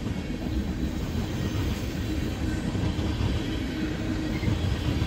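A freight train locomotive rolls past close by, giving a steady, dense, low rumble with rattling wheel and car noise throughout, no voices.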